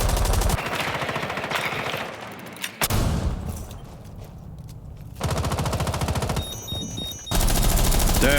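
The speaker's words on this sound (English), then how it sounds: "the wall bang to open things up" Rapid automatic gunfire in Rainbow Six Siege on the Bank map, shooting through a wall: loud sustained bursts broken by short pauses and a sharp bang, then more long strings of shots.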